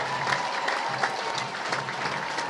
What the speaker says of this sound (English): the applause is getting a little bit louder